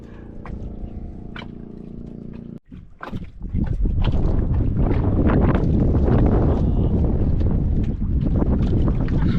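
Heavy wind buffets the microphone in loud, rumbling gusts after a brief quieter moment with a faint engine drone, continuing strongly to the end.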